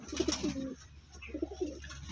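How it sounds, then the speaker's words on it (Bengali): Pigeons coo nearby in two short soft bursts of throaty, rolling calls separated by a brief pause, with a low steady hum in the background. "এই দুটো পায়রা হচ্ছে বাবা মা"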